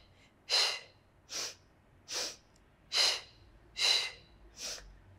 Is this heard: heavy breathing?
yes